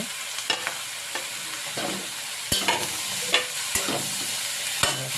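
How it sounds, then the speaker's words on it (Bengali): Potatoes, onions and brinjal fry in oil in a pan for a Bengali fish tel chorchori. The sizzle is steady, and a spatula stirs and scrapes the pan with repeated sharp knocks. No one speaks. "পেঁয়াজগুলিটা দিয়ে একটু আবারও ভালো করে একটু ভাজা ভাজা করে নেব"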